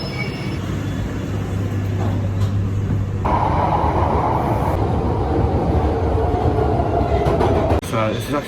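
A London Underground train rumbles loudly nearby, its roar rising as it moves along the rails, with a voice briefly audible over the noise.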